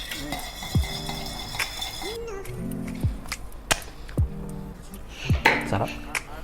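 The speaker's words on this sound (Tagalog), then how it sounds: "Have a quick stir to taste." Bar spoon stirring an espresso martini in a mixing glass, a series of sharp metallic clinks and rattles at an uneven pace, close and moderately loud.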